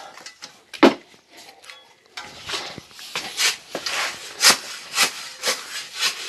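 Cement and sand plaster mix being stirred in a bucket with a bucket trowel, giving a series of gritty scraping and rubbing strokes, irregular and close, with no talk.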